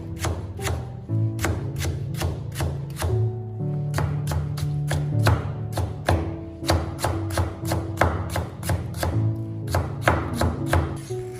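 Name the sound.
knife cutting radish into thin strips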